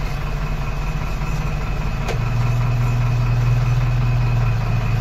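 A steady tractor engine drone, low and loud, rumbling continuously with a slight rise in pitch partway through as it strains up a slope, tyres smoking.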